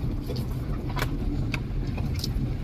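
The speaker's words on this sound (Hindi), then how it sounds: "देखिए, गाड़ी का आवाज ही कुछ अलग से आ रहा है इसमें।" Car driving slowly along a rough, unpaved dirt road, a steady low engine rumble with scattered rattles and knocks from the bumpy surface, heard from inside the vehicle.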